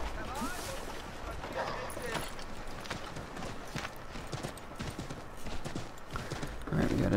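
A horse in Assassin's Creed 3 clip-clops along with steady, rhythmic hoofbeats over busy game ambience, moderately loud and continuous.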